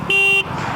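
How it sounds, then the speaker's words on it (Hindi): A single short, high electronic horn beep from a motorcycle sounds at the start line of a drag race between a KTM Duke 250 and a Hero Xtreme 250R. "हॉर्न दूंगा, ठीक है भाई, हॉर्न दे रहे हैं।"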